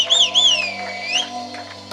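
A church congregation whistling together, a few rising and falling high whistles blending over a soft background, short and moderately loud, with no speech.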